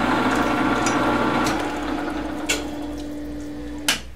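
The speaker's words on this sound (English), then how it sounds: "Throwing coolant all over here." Flood coolant from a drill press sprays and splashes steadily, a continuous watery hiss with a low pump hum that cuts off partway through, followed by a couple of brief splashes.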